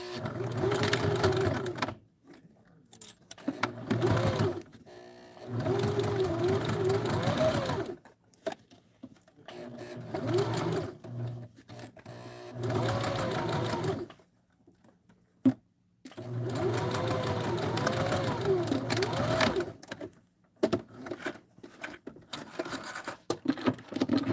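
A sewing machine runs slowly over pinned fabric in repeated bursts of steady whirring, separated by short pauses.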